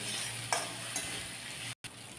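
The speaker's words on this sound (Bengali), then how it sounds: "তারপর আবার একটু নেড়ে চেড়ে নেবেন।" Potatoes, sugar and slit green chilies being stirred in a pan make a faint, steady frying hiss with a couple of soft scrapes, broken by a brief dropout.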